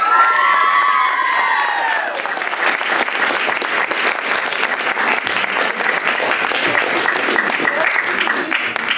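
Loud, sustained applause and cheering from a school audience at a music and arts competition final, with children shouting and whooping over continuous clapping throughout.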